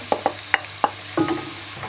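Peppers go into tomato paste in a pan for a mushroom and meat sauté, with a soft low sizzle under a few sharp spoon clinks and stirring scrapes.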